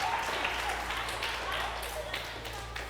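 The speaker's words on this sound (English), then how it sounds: "Give a big clap." A small audience at a children's science show gives a short round of clapping, moderately loud and scattered, over a steady low hum.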